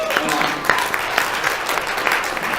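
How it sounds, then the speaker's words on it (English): Audience applause at a sustainability conference talk, a steady dense wash of clapping from a seated crowd lasting the whole stretch, fairly close and loud with no speech over it. "feel free to applaud"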